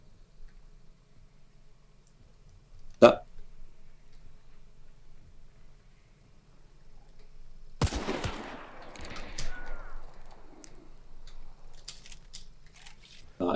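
Gunfire from other players in Hunt: Showdown, one sharp distant shot early on, later a louder crack followed by rumbling, echoing reports and scattered pops.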